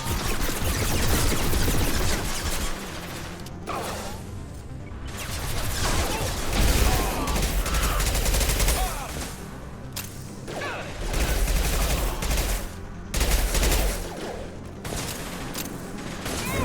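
Sustained dense gunfire fills a Mass Effect 2 firefight, with rapid automatic bursts, impacts and mechanical clatter running almost continuously at loud, close level, with brief lulls between volleys.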